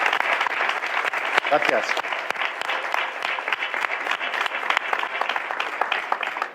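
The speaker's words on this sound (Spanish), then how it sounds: "me gustaría que recibiera un aplauso de todos porque se lo merece" Audience applause at a public talk on a crewed trip to Mars, moderately loud and steady clapping from a sizable crowd, with a voice speaking briefly over it.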